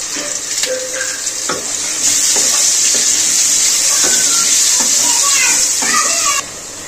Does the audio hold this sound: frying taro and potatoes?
yes